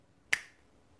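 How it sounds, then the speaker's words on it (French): A single crisp finger snap, close and clean against near silence, with a short decay. "d'un claquement de doigts"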